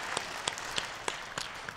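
A church congregation at a Sunday worship service claps to welcome a newcomer, with soft, sparse, distinct hand claps spaced out over a short stretch, fairly quiet and without talk.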